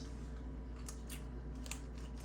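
Knife sawing through a BLT hoagie sandwich, a few soft crunchy strokes over a steady low background hum, with no talking.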